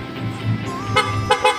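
A newly installed horn on a Yamaha Aerox V2 motorcycle gives a few short honks over a running engine, close by, with brief toots near the end.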